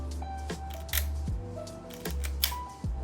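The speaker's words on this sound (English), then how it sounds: "the tactile feeling of the film advance, as well as the silent cloth shutter." A Leica M3 rangefinder film camera clicks and whirs as its film advance is wound and its quiet cloth shutter fires, several soft mechanical snaps and ratcheting sounds up close in a quiet room.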